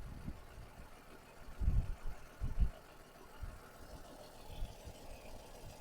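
A Renault Kwid's engine idles with low, uneven rumbling pulses, growing louder in two short bursts near the middle and then settling back to a steady murmur.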